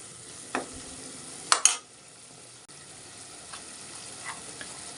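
Soft brinjal pieces frying in a pan make a low, quiet sizzle, broken by a few clacks of a spoon stirring, with a double knock near the middle.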